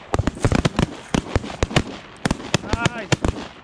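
Shotgun blasts ring out during a duck hunt on big open water, a rapid volley of sharp, loud reports fired in quick succession with several shots overlapping, while hunters shout over them.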